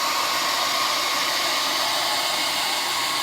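A blow dryer blasts hot air onto hair, a loud, continuous, steady whooshing hiss close up with no pauses or talk.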